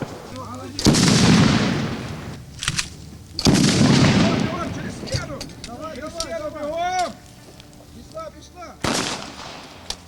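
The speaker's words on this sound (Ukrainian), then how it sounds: "там колонка є, аудіо і розриви, там імітація взривів" Loud booming blasts of simulated explosions from a loudspeaker on a military assault obstacle course, a few heavy bursts with rumbling tails, while people shout between them.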